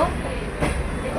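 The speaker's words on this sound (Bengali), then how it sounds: "ট্রেনে উঠে পড়েছি" Steady rumble of a moving train carriage, a continuous broadband rattle and roar from inside the coach with a brief louder swell midway.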